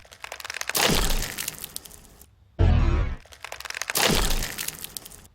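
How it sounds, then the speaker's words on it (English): Ice cracking in a trailer sound effect: sharp, loud breaking cracks with crunchy, glassy shattering, a couple of separate bursts with a deep impact between them and quieter crackles around them. "So the crack is fine. It sounds like it's ice breaking or something."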